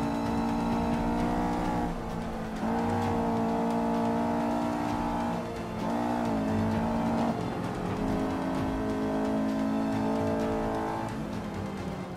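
Race car engine in Forza 5, a loud sustained roar with layered harmonic whine, dipping briefly between gear changes and climbing again across the lap.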